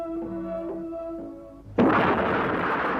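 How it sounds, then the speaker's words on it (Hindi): A deep booming cannon blast from a film scene of Jhansi's famous cannon Ghan Garaj firing on an army, breaking in loudly after a sustained musical tone and rolling on as a rumbling roar. "झांसी की प्रसिद्ध तोप घन गरज ने अंग्रेजों की सेना पर गोले बरसाने शुरू किए।"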